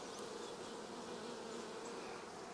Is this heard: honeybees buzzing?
yes